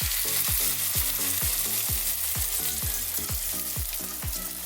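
Scrambled eggs fry in a pan with a loud, steady sizzle, broken by regular scraping strokes roughly twice a second as they are stirred, with nothing else heard.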